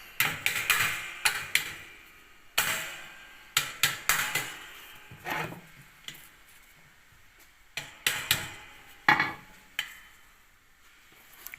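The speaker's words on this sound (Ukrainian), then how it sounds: "і підстукуємо молотком, поправляємо" Sharp metallic taps from a hammer on clutch basket parts of a YuMZ-6 tractor come in irregular bursts, several quick strikes at a time with short pauses between, close and fairly loud.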